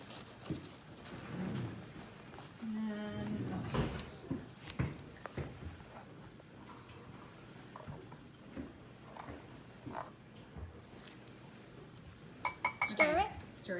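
A metal spoon clinks and scrapes against a glass container while stirring a baking soda mixture, in bursts of light tapping with a louder rattle near the end, with people talking nearby.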